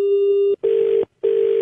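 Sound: telephone call ringing

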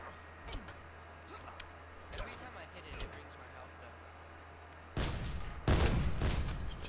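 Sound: gunshots in the video game Call of Duty Black Ops 4

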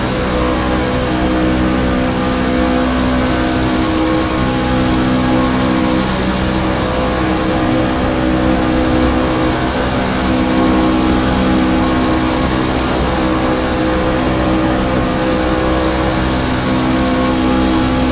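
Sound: pickup truck race car engines in iRacing video game

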